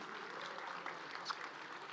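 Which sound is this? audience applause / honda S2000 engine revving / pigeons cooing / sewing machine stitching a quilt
audience applause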